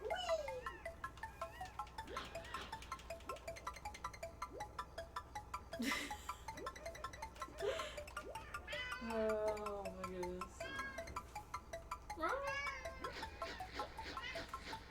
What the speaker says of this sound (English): My actual cat making noises. But she's not in this room.